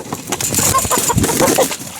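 Chickens in a coop cluck and shuffle nearby, with short irregular calls and some wing flapping over a noisy background, no talk.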